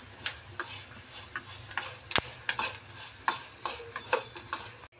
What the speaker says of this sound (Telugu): ఇలా వేయించుకోవాలి. రంగు మారే వరకు ఉంచుకోవాలి.